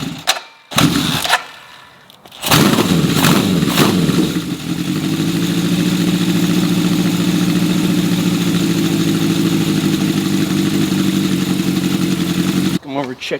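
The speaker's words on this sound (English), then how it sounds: "Start the bike up, we'll let it run for a second or two, more like 45 to a minute." Honda CB750 motorcycle starting up: several sharp cranking bursts, then the engine settles into a steady, close, loud idle that runs without a break for about eight seconds before cutting off.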